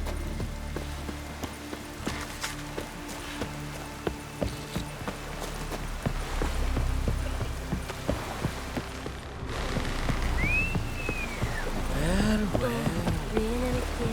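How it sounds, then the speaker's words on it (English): Steady rain falls in The Witcher 3: Wild Hunt, a broad patter running the whole way with scattered drips, under in-game footsteps, clip-clop and other background sounds. "It's raining. Put on your tunic."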